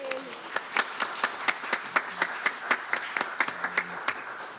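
Applause at a Seattle City Council meeting marking an elementary school's centennial day: steady, evenly spaced claps from a small audience, with faint voices murmuring underneath.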